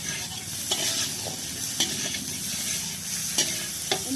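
Onions and potatoes fry with salt and turmeric, giving a soft continuous sizzle with a few sharp scrapes as a spoon stirs the pan.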